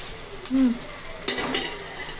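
Onion, chilies, curry leaves and garlic frying in oil for a chole aloo masala curry, with a soft sizzle, a brief metallic clink and a short stir near the end.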